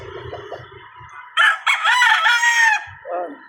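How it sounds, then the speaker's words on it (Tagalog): Outdoor chickens cluck softly at first, then a rooster lets out a loud, close crow lasting over a second, followed by a short cluck, heard while walking or jogging through an urban area. "Marami nito mga manoks."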